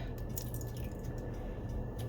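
Two ounces of boiling hot water poured for a matcha drink, a steady close liquid rush and gurgle filling a cup, continuous for about two seconds with no talking.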